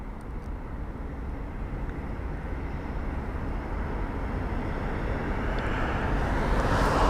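An Airbus A330-300 airliner arrives at London Heathrow, its low, broad engine rumble steady and fairly distant, swelling slightly louder toward the end.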